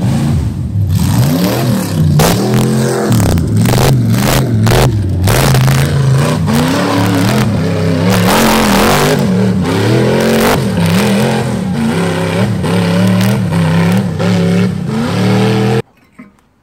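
A second-generation Cummins diesel truck rock bouncing, its engine revving loud and close in rising and falling surges for about fifteen seconds before cutting off abruptly.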